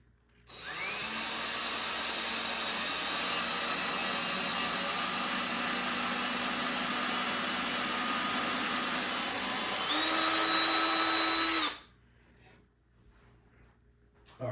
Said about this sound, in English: we're going to drill another pilot hole.